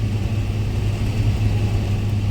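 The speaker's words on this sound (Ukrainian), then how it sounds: "На цьому полі, друзі, йде тракторець тяжковато трохи." Tractor engine labouring under load while ploughing a field after a drought year, a steady, close, continuous low rumble with a constant droning hum and no voices.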